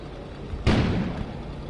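A single sudden boom goes off outside in the video game Kona, a muffled, distant-sounding blast with a soft low rumble that fades away slowly against quiet background ambience.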